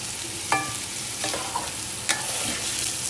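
Chicken karahi sizzles and fries in a pan while being stirred, with a steady hiss of frying broken by three sharp scraping clanks of the spoon against the metal, close and clear with no talk.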